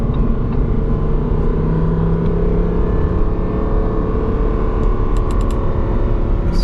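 Lamborghini Huracan EVO Spyder with a V10 engine pulling onto the Autobahn, a steady loud engine and road rumble that holds at a constant level throughout, with no voices.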